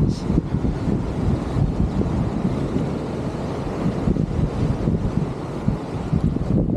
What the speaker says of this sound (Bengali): বাতাস খুবই ঠান্ডা